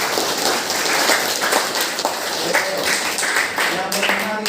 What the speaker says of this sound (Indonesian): Kita beri tepuk tangan untuk ketiganya